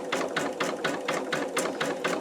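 Embroidery machine stitching an in-the-hoop wallet, its needle thumping in a fast, even mechanical rhythm of about four beats per second, close and moderately loud.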